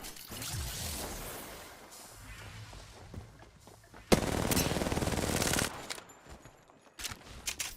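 Gunfire in a video game: scattered quieter shots, then one loud sustained automatic burst lasting over a second, followed by a few more sharp shots.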